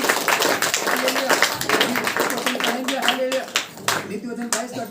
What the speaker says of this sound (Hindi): ताली बजाकर जोर से